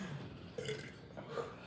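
A young man gives a quiet fake burp, a short croaky belch sound repeated in a couple of rough bursts, fairly faint and close.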